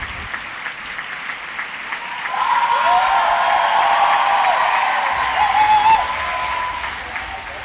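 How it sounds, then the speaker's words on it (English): Loud, sustained applause from a festival audience at a Cannes film screening, dense clapping that swells midway and stays strong throughout, with a faint high whistle-like tone drifting above the crowd. "Dolan's latest film, Matthias and Maxime, was received to very loud applause."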